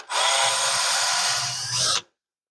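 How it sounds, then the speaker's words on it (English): A power drill with a 1/8 bit bores anchor holes into a wooden desk, a steady close whir lasting about two seconds before stopping abruptly. "I'm just going to drill a couple of anchors. I'm using a 1/8 bit"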